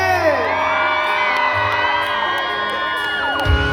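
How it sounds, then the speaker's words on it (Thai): A loud crowd at a concert at The Promenade screams and whoops together in high-pitched, sustained shrieks, close and continuous throughout. "ขอเสียงกรี๊ดนะครับคนที่ชอบเป็นนี้"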